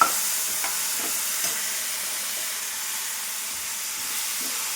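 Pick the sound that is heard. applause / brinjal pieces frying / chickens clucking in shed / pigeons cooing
brinjal pieces frying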